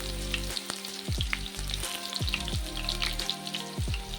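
Chopped onions fry in oil with a bright, steady sizzle, broken by several stirring strokes, heard close up over a low hum with no voices.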